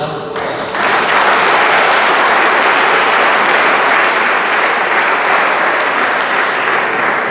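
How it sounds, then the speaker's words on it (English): A crowd at a high school awards banquet breaks into loud, sustained applause after a brief moment of quiet, the clapping dense and even throughout. "Give yourselves a round of applause."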